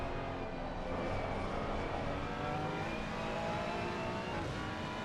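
Sim racing cars in a league race at Brands Hatch accelerate out of a corner, their engines rising in a steady, close roar with layered revving tones that hold evenly throughout.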